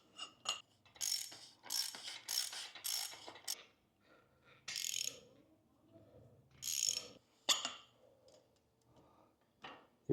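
Ratcheting and clicking as a fork cap nut is loosened on a Ducati motorcycle fork during a seal rebuild, bursts of quick ratchet strokes with short pauses, close and fairly loud, no talking.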